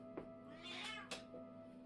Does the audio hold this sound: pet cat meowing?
yes